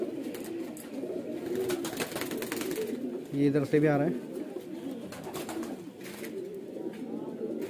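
A pigeon gives a brief soft coo in the middle, near and low, with someone talking steadily over it throughout.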